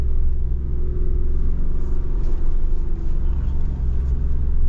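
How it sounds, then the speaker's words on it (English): Jeep Wrangler Rubicon 392 crawling in 4-low, second gear through rain puddles off-road, a loud steady engine rumble close by with faint splashing over it and no talk. "we're in 4 low, second gear right now, going through these puddles here"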